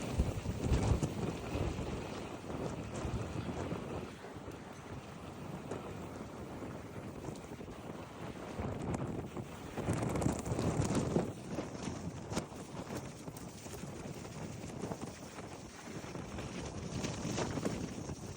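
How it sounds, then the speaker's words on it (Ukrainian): Strong wind on Corfu, Greece buffets the microphone in uneven gusts, with a low roar swelling and easing over a steady outdoor background. "Боже, який вітер, це взагалі"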